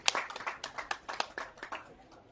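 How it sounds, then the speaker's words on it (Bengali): An audience claps loudly for Russell Mahmud, a brief burst of dense, close applause that slowly thins out. "সবাই রাসেল ভাইয়ের জন্য একটা জোরে হাত তালি"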